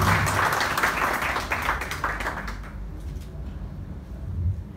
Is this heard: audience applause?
yes